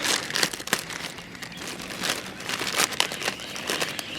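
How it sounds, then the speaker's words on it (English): Plastic packaging around a Garden State Bulb pomegranate plant is crinkled and torn open by hand, close and loud, with irregular crackling bursts and no talking. "get the plastic open. Here, grab the plastic."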